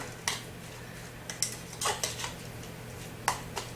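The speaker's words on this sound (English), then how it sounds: "Keep stirring it and smashing it until you have a nice gross little paste in there." Faint clinks and scrapes of a utensil against a bowl while stirring catfish bait paste with melted cheese, a few irregular taps and short scraping strokes over a low steady hum.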